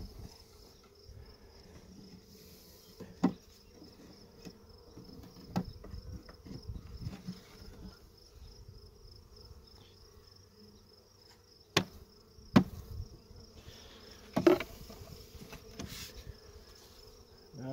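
Honeybees buzzing around an open hive during an inspection, a faint continuous hum with occasional individual bees passing close, punctuated by a few sharp knocks from handling frames or equipment.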